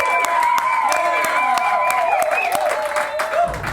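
An audience applauds a band at a Tulsa Little Jam live music show, with sharp scattered claps over a sustained, fairly loud sung or spoken tone, and a voice partly over the clapping.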